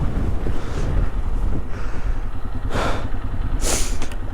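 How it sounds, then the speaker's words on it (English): Strong wind buffets the microphone in heavy, continuous rumbling gusts, with a few louder bursts near the end, on a snowy outing on a Polaris Sportsman 500 ATV. "And it's so windy."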